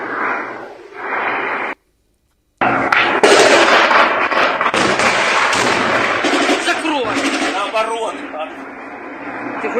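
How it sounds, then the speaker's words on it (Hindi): Gunfire in the Ukraine war near Tokmak, a dense run of bangs and cracking shots that breaks off for a moment and then resumes, mixed with people talking in Russian. "सकें गोलियों की आवाज"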